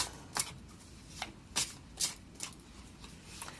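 Tarot cards shuffled by hand in a quiet room, a series of soft, crisp riffling bursts at an irregular rhythm, close and fairly faint.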